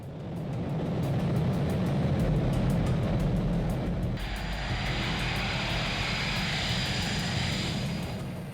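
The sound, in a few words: Boeing 727 airliner taxiing down the runway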